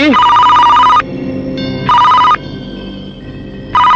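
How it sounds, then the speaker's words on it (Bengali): A telephone bell rings loudly in repeated bursts, with short pauses between rings, as voices from a comedy film scene speak in the gaps. "তোর বাপের ফোন আইছে"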